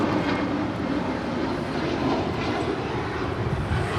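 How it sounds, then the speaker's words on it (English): A United Boeing 737 MAX 9 jet departs bound for Cancun, its engines a steady, broad roar that holds loud and even throughout with no talk over it. "That is United 1278 departing to Cancun on a MAX 9"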